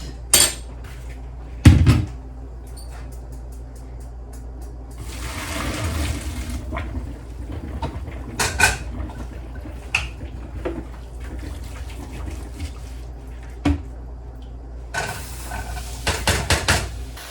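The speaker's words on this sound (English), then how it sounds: "All right, I think the macaroni and cheese is good. So now I'm gonna drain it." Boiled macaroni is drained from a pot in a home kitchen: pot clanks, metal knocks and bursts of pouring water rush in and out, close and loud, with no talking.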